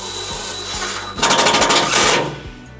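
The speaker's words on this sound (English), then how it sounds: "we're going to secure our ground wire with our provided self-tapping screw" Power driver sinking a self-tapping screw to fasten a ground wire on a 2008 Chevrolet Colorado, a short, loud whirring burst with rapid pulsing over a steady background hum.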